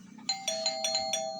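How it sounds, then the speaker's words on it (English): A house doorbell rings over and over in the middle of the night, its bright chime tones pulsing repeatedly and close by. "the doorbell rang continuously at like 1 or 2 in the morning"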